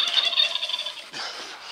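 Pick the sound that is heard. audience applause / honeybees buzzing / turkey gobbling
turkey gobbling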